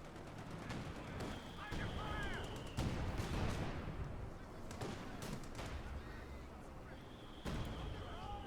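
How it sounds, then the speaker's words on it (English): Mortar and artillery fire in the real-time strategy game Company of Heroes 2, a Wehrmacht versus US Forces match, with repeated booming impacts and crackling gunfire heard faintly under a commentator talking throughout. "Ooh, nice on the mortar there from the Stug E."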